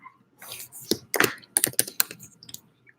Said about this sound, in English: I don't know why I'm typing this in the Premiere.